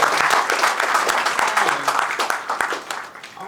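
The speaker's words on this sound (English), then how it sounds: "a round of applause for our speakers today" An audience applauds speakers at a talk, dense clapping that stays steady and fairly loud before thinning toward the end, with some voices mixed in.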